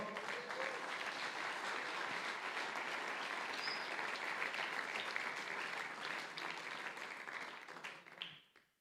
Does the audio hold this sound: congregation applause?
yes